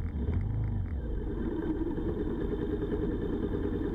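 Superbikes, including a Kawasaki Z800, idle together at a Sunday morning ride meeting point, a continuous low engine rumble that stays close and steady with no revving.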